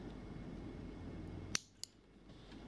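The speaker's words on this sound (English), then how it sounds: "And then just cut the excess." Scissors snip excess crochet thread: two sharp, close clicks about a quarter second apart against a quiet room background.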